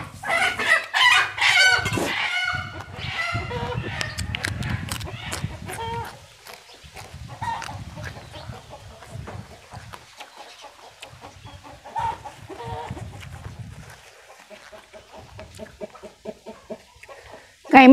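Chickens at a rural Isan home crow and cluck close by, with a loud rooster crow early on and then scattered clucks and calls through the rest, nobody talking.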